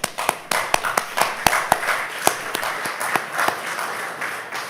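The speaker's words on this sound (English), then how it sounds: "Give yourselves a round of applause." A small group at a Johns Hopkins Medicine Lyme Center evening event claps: sparse individual hand claps ring out distinctly, with an uneven rhythm over a light wash of applause.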